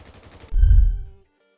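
A short burst of video game gunfire on the Quant RP roleplay server booms heavily up close, then rings out briefly before cutting to silence.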